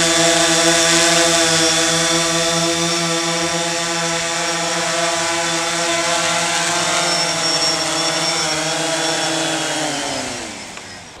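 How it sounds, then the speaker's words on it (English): Drone hovering close by, a loud steady propeller whine with stacked buzzing tones that hold level, then dip and fade as it moves away at the end. "My guy, the drone."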